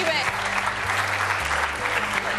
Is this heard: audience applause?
yes